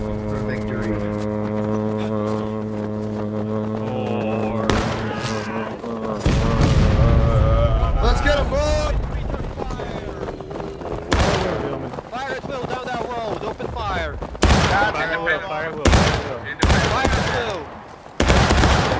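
Musket volleys and scattered gunfire in the War of Rights video game, a Civil War-era battle, with sharp bursts of shots rising over shouting players and chatter, near and loud.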